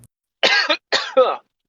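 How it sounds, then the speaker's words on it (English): A person coughs in a quick, close sequence of two or three dry bursts, with a short gap of silence before and between them. "That was a cough."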